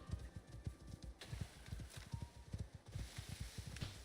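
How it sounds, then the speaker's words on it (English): Wild horses gallop in a video game, with rapid, steady clip-clop hoofbeats pounding in a tight repeating rhythm close by, the running sound carrying on alone. "wild horses no longer aggro"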